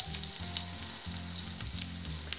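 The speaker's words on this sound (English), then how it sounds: "Make sure that all the skin is just touching the surface of the pan so that it all gets nice and crispy." A sea bass fillet fries skin-side down in a hot pan. The sizzle is steady and crackling, with bursts of spitting, and plays close and alone.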